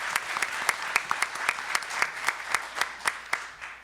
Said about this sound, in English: please join me in giving him another round of applause for all of his hard work